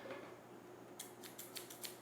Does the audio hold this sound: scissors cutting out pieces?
yes